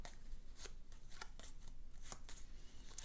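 A deck of cards shuffled for the Glass Road board game, giving quiet riffling flutters and soft snaps at irregular intervals, faint and close.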